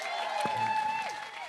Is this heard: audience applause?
yes